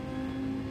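A car engine in Gran Turismo 7 held against the rev limiter, a brief, steady, buzzing high-rev drone at moderate volume.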